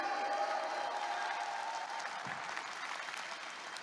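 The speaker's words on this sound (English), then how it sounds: "Can we give Riway a round of applause today?" Applause from an audience at a business seminar or training session, steady broadband clapping that holds at an even level and tapers slightly, with no voices over it.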